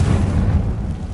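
A Confringo blasting spell erupts in the video game Hogwarts Legacy, a heavy, low rumbling boom that hits hard at once and rolls off quickly, loud and close.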